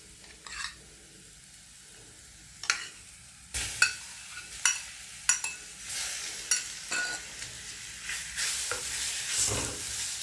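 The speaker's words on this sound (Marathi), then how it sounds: "आता ह्याच्यात प्रॉन्स ॲड करायची" Prawns stirred into a curry in a pan, with several close scrapes and clatters over a steady frying sizzle, quiet at first and then busier, no talking.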